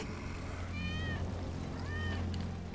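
Wedge's cat in Final Fantasy VII Remake gives two short rising meows about a second apart, fairly clear over a steady low background hum.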